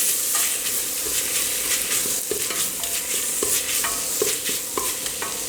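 Crushed garlic sautés in hot oil in a pan for mutton mandi, giving a steady close sizzle broken by regular scraping stir strokes, with no voices.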